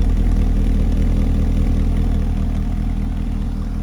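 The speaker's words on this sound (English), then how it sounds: "Nice rumble with the exhaust with the flaps closed." A steady, low exhaust rumble from an idling 2013 Corvette convertible with its exhaust flaps closed, close and continuous, with no talking.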